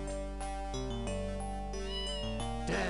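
Cat meowing in the video game Shadow of the Comet, heard over a sustained, loud synthesized music track with shifting tones.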